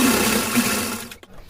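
A sewing machine stitches the two joined ends of a small cotton night suit for a Laddu Gopal idol, a steady close motor whir that runs continuously, then stops abruptly near the end.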